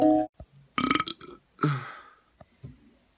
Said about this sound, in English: Enough of the burping!